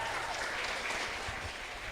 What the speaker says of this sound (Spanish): recibimos con un fuerte aplauso a Carmela Sostegno